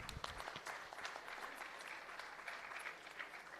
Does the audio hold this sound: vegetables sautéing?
no